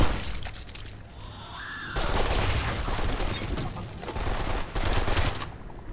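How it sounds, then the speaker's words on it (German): Enemies trading gunfire in the Blacksite shooter game, dense overlapping bursts and booms at moderate distance that swell and ebb in waves without a break. "Ja, schießt euch gegenseitig ab."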